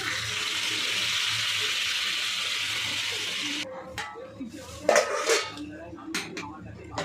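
Hot water poured into a pot of browning spiced meat for Bengali kosha mangsho, a steady broadband hiss and sizzle for several seconds, then quieter clinks and stirring with brief bursts.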